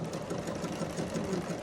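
A sewing machine stitches a Spiro-Quilt feather quilting design, its steady, fast mechanical whir holding at an even level with no talking.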